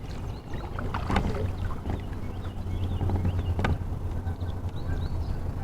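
A Lifetime Teton Angler kayak cruises along under an electric motor on a PVC motor mount, with steady close water wash and hull splashing over low motor drone, plus occasional wind buffeting against the microphone.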